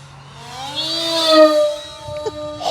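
Durafly Rare Bear Reno Racer 680mm RC plane streaking past fast, a high whining motor tone that sweeps upward then falls in pitch like a Doppler pass, clear against a quiet background.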